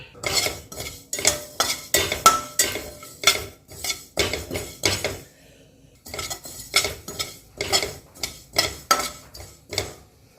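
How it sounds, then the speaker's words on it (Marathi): Sesame seeds dry-roasting in a pan, heard as a steady run of rhythmic metallic scraping and clinking from a spoon stirring against the pan, close and fairly loud, with a short pause midway. "चालू केले तीळ एक मिनिटच भाजून घ्यायचं"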